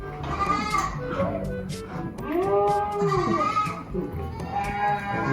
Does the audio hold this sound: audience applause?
no